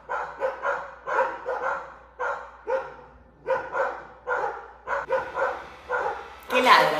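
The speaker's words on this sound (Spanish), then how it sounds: "¡Qué ladran, che!" Several dogs barking in rapid, repeated bursts, close and loud, with yips between barks and a sharper burst at the end.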